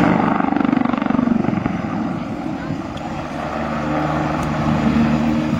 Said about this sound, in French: et cet hélicoptère il fait un voltige